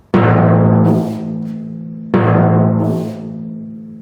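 A timpani rings twice from two loud strikes, each long booming tone decaying slowly, while a hand swipes across the drum head to add a brief soft brushing hiss partway through each ring.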